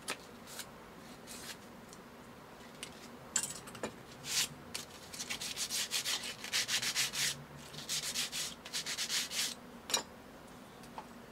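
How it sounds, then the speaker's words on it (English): Sandpaper rubbing on a violin's wooden top during crack repair, a run of close, fast scratchy back-and-forth strokes that come and go in bursts, with quiet gaps between them. "Or if you can do it nicely, you sand up a little bit"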